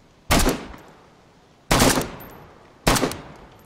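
Three loud, sharp gunshots in the survival game DayZ, spaced about a second and a half apart, each with a booming echo tail fading into quiet outdoor background.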